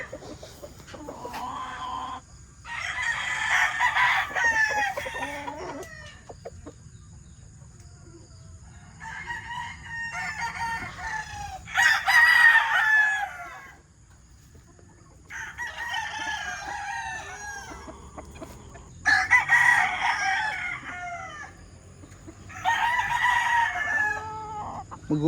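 Several stag gamecocks crow in turn, long rasping cock-a-doodle-doo calls repeating every few seconds and overlapping at times, moderately near over a low steady background hum.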